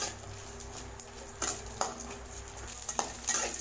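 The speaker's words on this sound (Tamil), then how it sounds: "பூண்டை சேர்த்துட்டு இதை லேசாக வதக்கி விடுங்க" Garlic sautéing in a pan over a medium flame for garlic rice, a gentle sizzle under repeated clinks and scrapes of a spoon stirring against the pan.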